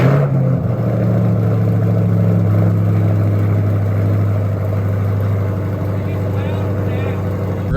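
A C8 Corvette fitted with an AWE Track Edition exhaust runs close by, a loud, deep, steady engine drone with a slight throttle blip early on, with faint talk mixed in.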